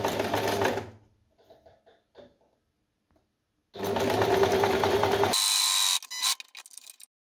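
A sewing machine stitches across folded bias binding for a washcloth in two fast, loud, buzzing bursts, with a quiet pause of faint handling between them and a short whirring tail at the end.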